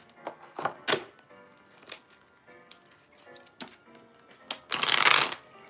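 Ordinary playing cards being shuffled and handled up close, several short crisp riffles and snaps spaced apart, ending in a longer, louder burst of shuffling.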